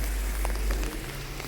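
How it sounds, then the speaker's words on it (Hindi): Heavy rain falling in Gstaad-Saanen, Switzerland, a dense steady patter of drops with a low rumble underneath, close and continuous for a moment. "बारिश बहुत ही तेज़ हो रही थी"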